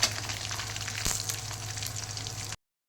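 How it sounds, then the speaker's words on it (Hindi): Food frying in pure ghee gives a steady, close crackling sizzle, dense and even throughout and cutting off abruptly at the end. "प्योर घी में फ्राई हो रही है।"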